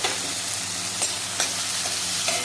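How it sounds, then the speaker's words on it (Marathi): Chopped onion, tomato and garlic sizzle and fry in a pan, a steady crackling hiss broken by a few scraping stirs, close and moderately quiet with no talking. "सर्व साहित्य छान परतून घ्यायचं आहे."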